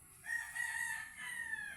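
A fighting rooster gives a single clear cock-a-doodle-doo crow, fairly close and moderately loud, over faint background noise.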